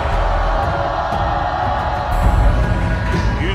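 A studio audience on the Turkish game show Çarkıfelek claps and cheers in a loud, continuous roar that swells briefly toward the end, with no clear talk over it.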